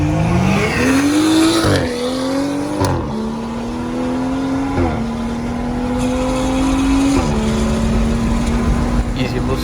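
A BMW M235i or M240i accelerates hard in a drag race, a loud, close engine climbing in pitch through several gear changes with brief drops between shifts, under steady road and wind roar.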